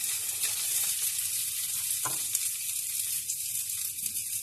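Eggplant slices fry in a pan of oil for Greek moussaka, a steady bright sizzle lasting the whole stretch, with a brief soft clink partway through and no speech.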